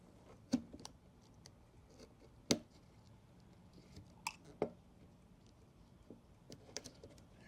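Scissors snip the stitching on a Bronco door net pocket, a few sharp isolated clicks and cuts scattered over a quiet room background, close and fairly faint between the louder snaps.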